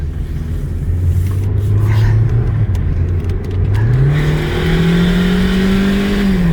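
A 2005 Hyundai Elantra, warmed up, revs its engine in two rising steps, a loud, close, droning hum climbing in pitch with no talk over it.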